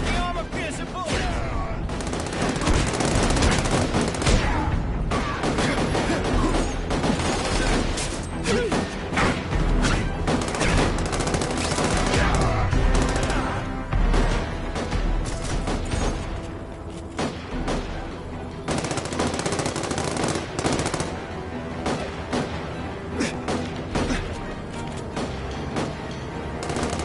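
Gunfire in an old PlayStation video game roars in dense, continuous bursts of shots, crashes and thuds, loud and close, with a voice talking through parts of it.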